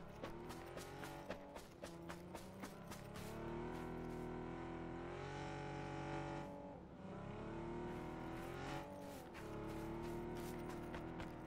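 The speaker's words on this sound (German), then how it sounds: "Auto ist vor mir." A video-game car engine hums steadily with rising and falling revs, layered over a continuous musical soundtrack.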